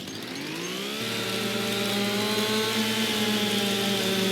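A chainsaw fells trees in Farming Simulator 25, its steady motor whine running continuously and loud, rising in pitch after the first second and then holding a sustained high rev.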